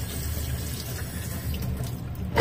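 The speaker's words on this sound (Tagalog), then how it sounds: "Ngayon, hugasan naman natin yung ating ampalaya." Ampalaya (bitter gourd) being washed under running tap water, a steady close rush of water splashing over the vegetable for a couple of seconds, ending in a louder splash.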